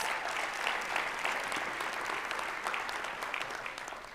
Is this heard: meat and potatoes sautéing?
no